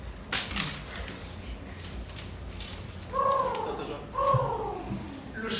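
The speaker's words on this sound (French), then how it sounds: "Le chant des oiseaux ne ment jamais." Birds call outdoors through an open window, with repeated short calls in two bursts over steady background noise, fairly close and moderately loud.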